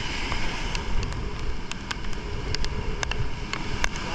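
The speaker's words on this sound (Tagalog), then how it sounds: "Grabe, nagsasalubungan yung alon." Typhoon Bebinca surf churning and crashing against a seaside seawall, a steady roar of water and wind with scattered sharper splashes, loud and close.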